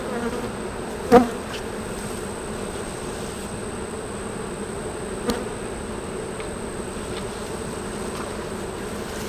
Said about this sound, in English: That is the sounds of a busy, busy hive.